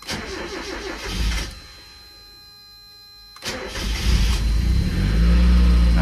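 A Mazda MX-5 Miata NA8, left unstarted for months over winter, cranks with a starter whir, goes quiet for a moment, then catches and fires up. It settles into a steady, close idle.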